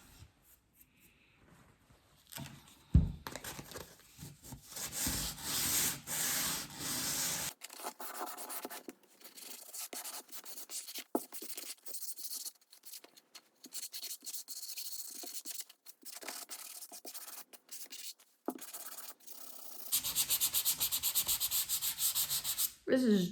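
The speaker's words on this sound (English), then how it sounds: "I am just going to sand them." Close, steady hand sanding of wooden shaker style drawer fronts, with long rubbing strokes in repeated passes and brief pauses between bursts, no talking.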